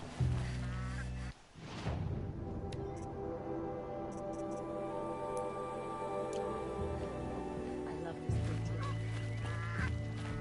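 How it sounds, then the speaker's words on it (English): A Canada goose honks in a desert in Horizon Zero Dawn, giving loud, repeated nasal calls over steady ambient game sound. "What's a Canadian goose doing all the way out here in a desert?"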